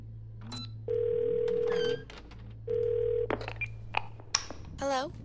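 A telephone rings in the video game Twelve Minutes: two long, even electronic ring tones with a pause between, followed by scattered clicks and short game sounds.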